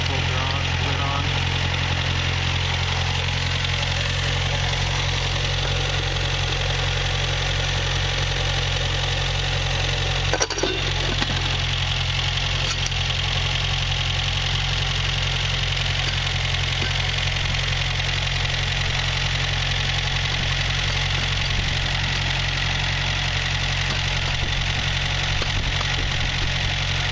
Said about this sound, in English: Quite a bit of blow by the motor is very old and worn out, but still has good compression apparently.